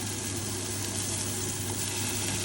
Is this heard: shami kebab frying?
yes